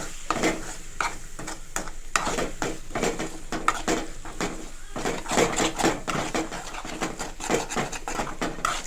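Egg curry masala with coriander leaves frying in a pan, a steady close sizzle broken by repeated scraping and stirring strokes of a spatula against the pan.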